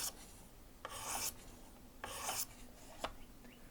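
A kitchen knife blade is drawn across a Work Sharp Precision Adjust sharpener stone in three distinct rasping strokes with a light tap between them, close and fairly quiet with no talking.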